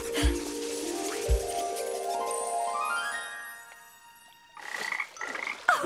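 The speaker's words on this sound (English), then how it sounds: "Still not found your family, little frog." A cartoon frog in a children's pond scene croaks clearly, with a rising musical sweep first and then several short, close croaks near the end.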